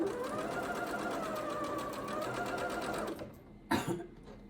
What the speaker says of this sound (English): But I always start sewing from just 2 layers. Start slowly.